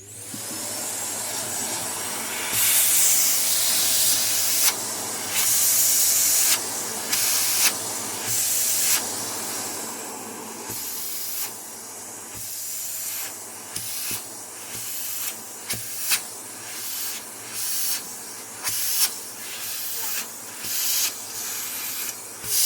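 A robot vacuum cleaner runs loudly with a steady rushing hiss, its pitch and airflow shifting in repeated surges as it is pushed back and forth.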